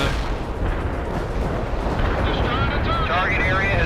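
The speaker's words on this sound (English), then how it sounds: "Fire mission received. Artillery barrage inbound." Heavy artillery barrage in the World in Conflict strategy game, a continuous dense rumble of rolling explosions and booming impacts, with a radio-style voice speaking over it near the end.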